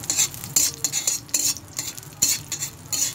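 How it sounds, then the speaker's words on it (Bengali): Cashews and raisins frying in ghee, bright crackling sizzle pulsing in regular bursts as the pan is stirred, close and fairly loud with no talk. "এই ঘিয়ের মধ্যে আমি ভেজে নেব কাজু আর কিশমিশ"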